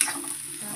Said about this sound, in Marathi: आता हा कांदा आता परतून घेऊ, खाली लागायला नको म्हणून छान असा परतून घेऊ।